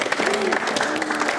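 Applause from a studio audience on a Kyrgyz television show, a steady wash of clapping throughout with no distinct individual claps standing out.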